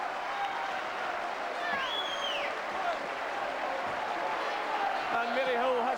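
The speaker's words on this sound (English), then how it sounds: "Applause all around the ground" Football fans applaud all around the ground at a 1992 Partick Thistle promotion match against Forfar, a broad, steady wash of crowd clapping and cheering that fills the stadium, with a commentator talking over it.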